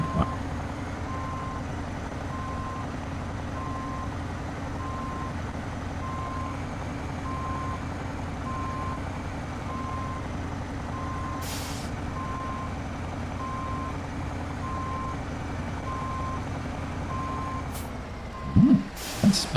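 Truck in the SnowRunner game backing up with a trailer, steady reversing beeps over a low diesel engine drone, an air-brake hiss near the end.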